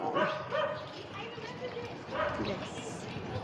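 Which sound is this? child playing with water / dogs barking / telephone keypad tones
dogs barking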